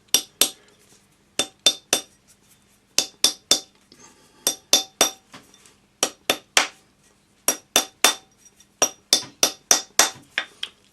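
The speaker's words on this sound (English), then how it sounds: "So now we're just going to take our rawhide hammer" Rawhide hammer striking a metal ring while shaping a square ring, a steady series of sharp, close metallic taps in quick clusters of two to four blows separated by short pauses.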